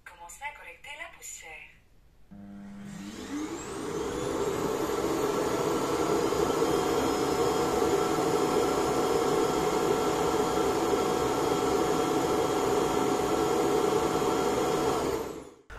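A Xiaomi Roidmi Eve Plus robot vacuum's dock station kicks in after a short pause and empties the dustbin with a loud, steady suction whine that holds for over ten seconds; someone talks briefly at the start.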